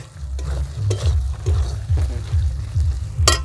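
Green chillies hit a hot pan of mutton curry, giving a steady sizzle and frying crackle with repeated stirring scrapes, close and fairly loud.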